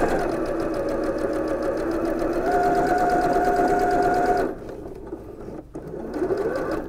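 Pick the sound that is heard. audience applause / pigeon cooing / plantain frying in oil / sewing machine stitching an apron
sewing machine stitching an apron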